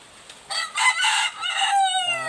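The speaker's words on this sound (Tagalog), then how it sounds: "Maganda boses nito kanter." Wild junglefowl (labuyo) rooster caught in a trap crowing loudly and close, a single drawn-out, harsh crow with a strained, raspy tone that trails off into a thinner ending.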